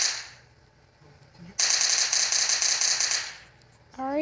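An SMG fires in a video game, one dense rapid-fire burst of about two seconds that stands out loudly after a quiet lead-in, followed by a short voice at the end.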